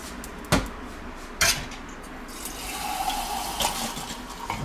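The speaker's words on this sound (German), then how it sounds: "Noch ein bisschen Wasser." Water is poured into a cooking dish of minced-meat-filled beef roulades with rice, making a soft, continuous splash over faint kitchen noise, broken by a couple of sharp clunks from the dish.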